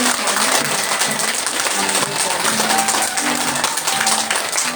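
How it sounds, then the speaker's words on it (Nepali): An audience at a formal Nepali ceremony applauds a guest being seated, with dense, sustained clapping mixed with a voice talking over it. "जोरदार तालीको द्वारा सम्मान"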